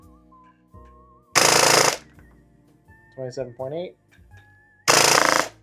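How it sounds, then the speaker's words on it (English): Two full-auto bursts from a G&G Combat Machine airsoft gun, a Batto custom build, each a loud, dense rattling buzz lasting about half a second, close by, separated by a spoken number and other speech. "let's do a quick full auto burst and see what kind of rate of fire we're getting"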